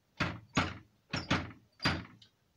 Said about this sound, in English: Here's the bass drum part.